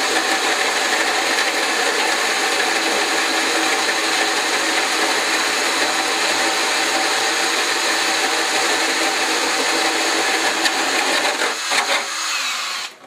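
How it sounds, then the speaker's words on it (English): Dremel rotary tool sanding paint off a Tamiya TB04 LaFerrari RC car body, a steady high-pitched whir held close and loud for several seconds before winding down near the end. "Now with my Dremel, I use the Dremel usually to do this."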